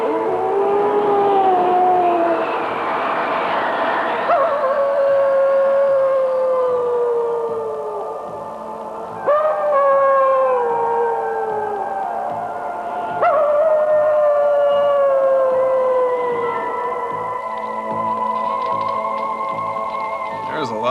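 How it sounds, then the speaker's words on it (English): A dog howls in grief in the 1983 Call of the Wild, long mournful wavering howls rising and falling again and again, loud and close with a music-like drone beneath. "Buck howled as if his heart would break."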